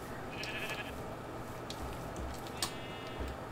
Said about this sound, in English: look at all those cows and sheep